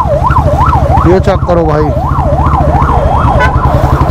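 Ambulance stuck in road traffic with its siren wailing in loud, regular up-and-down sweeps close by, over engine rumble and brief honks, while someone talks briefly.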